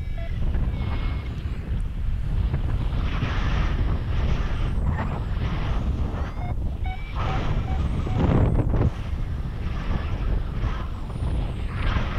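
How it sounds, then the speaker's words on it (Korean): Steady wind rushes across the microphone throughout a paragliding flight, the wind coming from the left, a loud continuous roar with slight gusts and no voices. "지금 바람은 왼쪽에서 불고 있어요."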